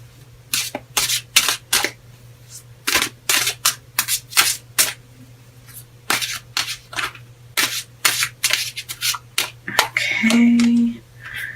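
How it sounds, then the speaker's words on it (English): A Rock and Roll Tarot deck is shuffled by hand in repeated quick bursts of papery riffling and sliding, close and crisp over a faint steady hum, without talk. "And let's get shuffling here."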